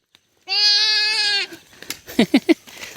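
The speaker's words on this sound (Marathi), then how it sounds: "बकरी आवाज कशी करते" One long, wavering goat bleat rings out close by, followed by a few short, quick vocal sounds, from goats out grazing.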